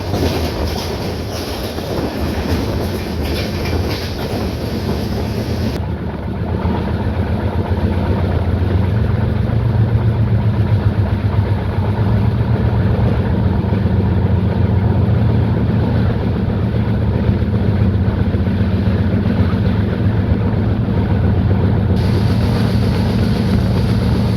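The Pune–Kanniyakumari Express runs toward Neyyattinkara railway station in Kerala, heard from on board as a loud, continuous rumbling drone of wheels and engine whose tone shifts partway through and then steadies.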